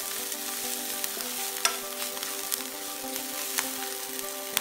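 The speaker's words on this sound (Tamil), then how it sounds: "முடக்கத்தான் வதங்கிட்டது. ஒரு 2-3 மினிட்ஸ் எண்ணெயில் வதங்க" Mudakathan greens sautéing in hot oil in a pan, a continuous soft sizzle with faint clicks and occasional light stirring taps.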